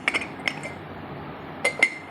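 A ceramic china pot gives a few sharp, bright clinks when tapped, with two quick hits at the start, one alone, then another pair near the end, close and clear against a quiet room.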